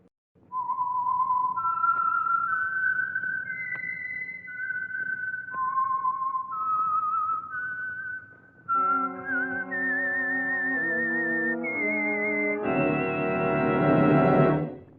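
A lone, clear whistle carries a slow melodic tune with rising and falling notes, the signature tune of a 1950 radio program, joined near the end by a swelling orchestral chord.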